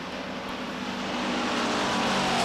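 Stock cars racing side by side at a speedway in weekly short-track competition, a loud, continuous engine roar that swells steadily with no voices.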